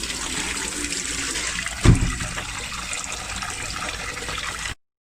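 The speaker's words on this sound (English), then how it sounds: "So wash it a couple times." Tap water runs steadily over tur dal lentils being rinsed in a bowl, a continuous close wash of splashing liquid with one brief louder slosh midway before it stops abruptly.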